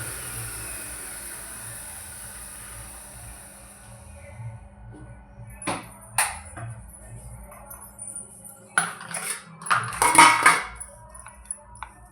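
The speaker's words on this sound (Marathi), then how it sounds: "हे मिक्सरमधून काढून घ्यायचं." A spoon scrapes ground cumin and salt out of a mixer jar: sparse, close metallic scrapes and clinks that come in short bursts and grow busier toward the end over a low background hum.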